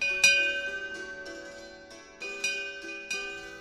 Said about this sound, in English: Like always, the jangling bell woke Mock.